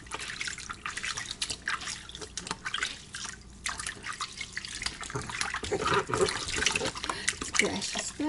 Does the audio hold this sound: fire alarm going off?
no